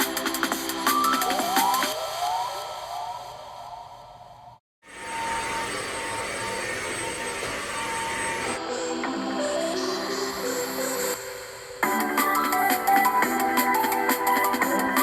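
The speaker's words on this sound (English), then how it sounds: "Now we'll just get it all vacuumed up." Vacuum cleaner running during household cleaning, a steady whining roar that changes character as it moves between surfaces, with a brief cut-out midway, no talking.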